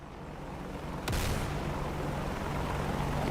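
A missile detonates off to one side in a combat flight game, one deep booming blast that swells and rumbles on over a steady engine roar.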